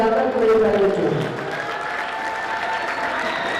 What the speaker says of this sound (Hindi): करो ताली बजाकर मेरे प्यारे बच्चों।